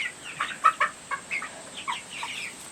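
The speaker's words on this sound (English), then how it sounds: "But these are the Cornish rocks, and it's a fast-growing broiler chicken." Cornish Rock broiler chickens, a fast-growing meat breed, cluck and chirp inside a barn, with a string of short, fairly close calls in uneven bursts over a quiet background hum.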